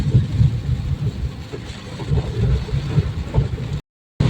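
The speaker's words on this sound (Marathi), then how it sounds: "पाऊस तर पूर्ण जोरात आहे इकडे, जोरात." Heavy monsoon rain falling in Konkan near the Rajapur bridge, a dense steady roar with low rumbling, continuous and loud before cutting off abruptly near the end.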